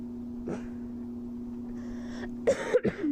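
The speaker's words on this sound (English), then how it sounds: "I've been having to deal with coughing a lot recently." A few short coughs and throat-clearing bursts near the end, close and fairly loud, after a quieter stretch with a steady low hum.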